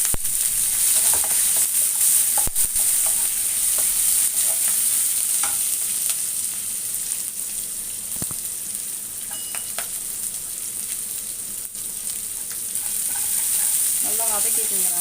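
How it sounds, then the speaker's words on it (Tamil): Onions fry in a pan with green chillies and ginger for rava kichadi, making a loud, continuous hiss and sizzle with occasional spatula scrapes and taps, close up throughout. "நல்லா வதக்கிட்டு வெங்காயம் போட்டுக்கலாம்"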